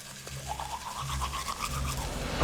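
An electric toothbrush brushes teeth up close, a steady buzzing hum with shifting, wet scrubbing texture over a couple of seconds, ending in a brief clunk.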